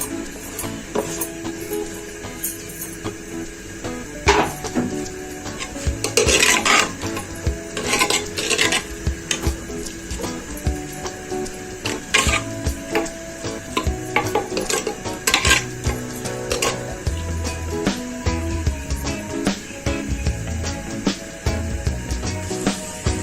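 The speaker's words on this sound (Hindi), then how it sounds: "मैंने इसमें अनियन डाल देनी है, जो मैंने बारीक चॉप करी थी" Finely chopped large onion tipped into a cooking pan for a smoky chicken handi and stirred with a utensil: repeated scraping and clinking against the pot over a low sizzle, irregular stirring strokes close up, no talking.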